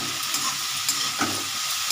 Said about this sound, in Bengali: কষাচ্ছি।